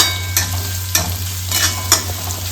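Onion fries in a pan as part of a leftover idli fry, a close, loud sizzle with a spatula scraping through it in a regular rhythm about every half second.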